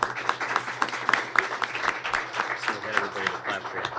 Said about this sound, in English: Don't applaud till you're done.